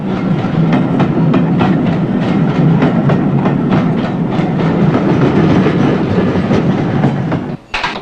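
Trains rumble steadily across a busy London railway junction near Cannon Street in the 1970s, with continuous rolling noise and repeated clickety-clack over rail joints, loud and close, ending in a brief drop.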